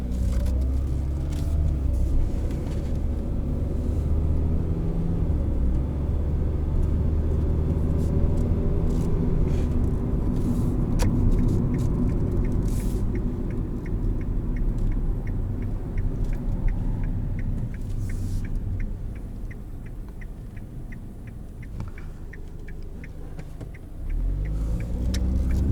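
A 2017 Hyundai Accent Sport with a 1.6-litre engine is driven, heard from inside as a steady road and engine rumble with tyre noise, dipping briefly near the end before rising again.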